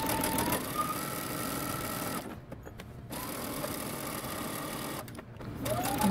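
A sewing machine backstitching a 5/8-inch seam on a coat runs in a fast, even whir close by, stopping twice for brief pauses before starting up again.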